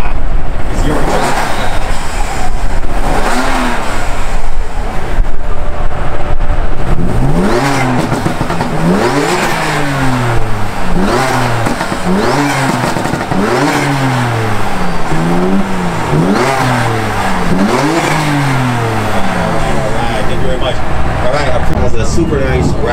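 A BMW with a full turbo-back straight exhaust revving hard, repeated rising and falling blips that bark loudly over a continuous idle rumble, with people talking nearby.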